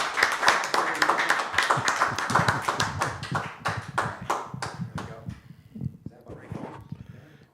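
A live audience claps for a performer at a music and comedy show, a dense burst of hand claps that stays steady for several seconds before thinning out and fading near the end.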